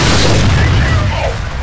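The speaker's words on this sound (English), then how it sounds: "This is a grenade." A grenade goes off in the shooter game F.E.A.R., a loud low boom that rolls on as a dense rumble for over a second and slowly thins out.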